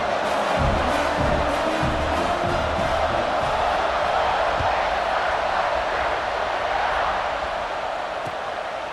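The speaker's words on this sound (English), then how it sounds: "this crowd is buzzing after that last score." A football stadium crowd in a college football video game, Duke versus Ohio State, keeps up a dense, steady roar and buzz after a score, loud and continuous throughout with no distinct voices standing out.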